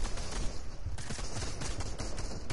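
Gunfire in the video game Fortnite, a dense rattling burst of rapid shots that continues steadily at moderate loudness, with no voices over it.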